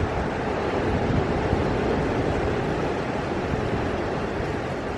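Ocean waves roll and wash steadily just below a villa in Jamaica, a dense, unbroken roar of surf close by with wind buffeting the microphone and no talking.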